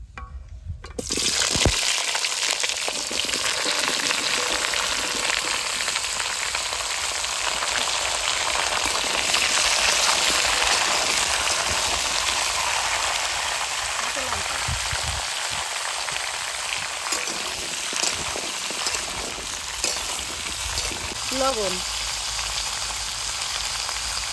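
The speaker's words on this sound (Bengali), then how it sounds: "তো প্রথমে সবজিগুলো ভেজে নেবো" Vegetables for ghyat frying in a pan in a home kitchen, a steady close sizzle and hiss that holds for over twenty seconds without talk.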